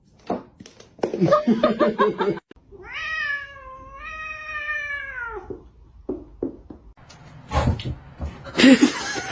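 A pet cat lets out a drawn-out, wavering meow at close range, preceded by short bursts of human chatter and followed by more talking and brief noises.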